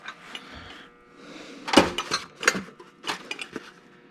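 A set of ignition wrenches being handled while working on a 1992 Ford Ranger XLT 4x4, giving small metallic clinks and rattles in scattered bursts, close by and fairly quiet, with no talk.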